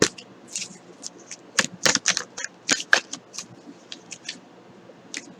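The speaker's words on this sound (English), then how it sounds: "I want to pull a few more cards." Tarot cards shuffled and drawn by hand in a quick, irregular run of crisp riffling flicks and soft slaps, close and fairly loud, with no voice.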